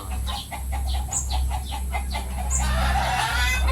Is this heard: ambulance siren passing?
no